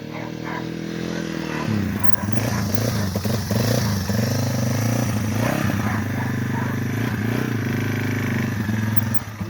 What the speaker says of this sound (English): you can push start your TW200 even when there's no battery hooked up